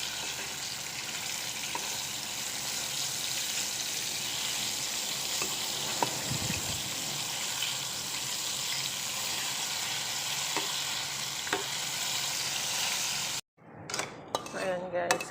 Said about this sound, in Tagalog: second frying na ako guys para mas malutong siya